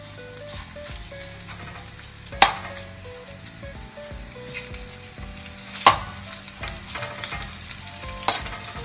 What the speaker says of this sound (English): We'll saute the onion.